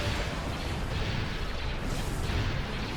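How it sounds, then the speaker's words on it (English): Starship cannons fire in a Star Wars Empire at War space battle mod, a dense, continuous roar of booming blasts and explosions, loud and unbroken with no talk over it. "Focus all fire on the enemy MC. Turn the cannons on him."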